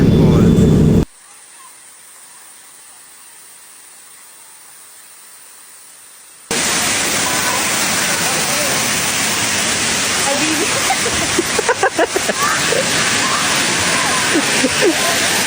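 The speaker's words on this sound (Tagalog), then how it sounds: "ito na ang Aruyan Falls." Rushing roar of the Aruyan Falls waterfall in Sablayan, Occidental Mindoro, a broadband wash of falling water that starts abruptly after a few quiet seconds and holds steady and loud through the rest, with a faint voice near the start.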